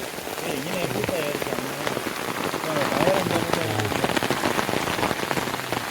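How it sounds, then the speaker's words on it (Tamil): Heavy rain pours steadily in a hilly tiger forest around a tall jackfruit tree, a dense, constant hiss of drops on leaves and surfaces with a faint voice underneath. "மழை வேறு வெளுத்து வாங்குதுங்க"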